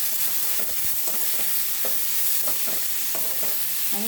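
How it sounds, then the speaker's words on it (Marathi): Tomato and onion masala with salt cooks in oil in a pan over low heat, giving a steady close sizzle broken by a few soft stirring scrapes, with no one talking. "आणि छान मंद गॅसवर ते शिजू द्यायचं"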